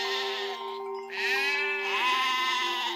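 A flock of sheep bleating together on a farm in Crete, several overlapping loud, wavering cries close by that run almost continuously, with only a brief lull in the middle.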